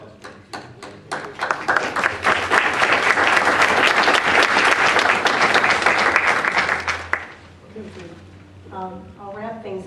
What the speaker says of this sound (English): I certainly would give them a round of applause